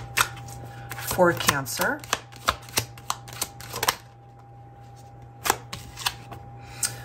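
Tarot cards from a Valentine Connection deck are shuffled and cut in a series of sharp, close slaps and riffles. A short spoken phrase cuts in partway through, followed by a quiet pause and a few more card taps.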